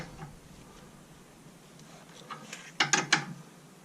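A 15mm wrench gently screwing in the inner tie rod of a 2001 Golf Mk4 GTI, a few faint metallic ticks and then a quick cluster of sharp ratcheting clicks near the end.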